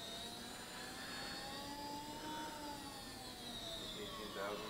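An Axiom CNC router spindle with integrated liquid cooling spins up toward 10,000 RPM. It gives a steady, moderately loud whine that climbs slowly in pitch and runs without a break over a constant background hum.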